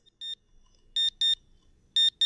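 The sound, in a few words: alarm going off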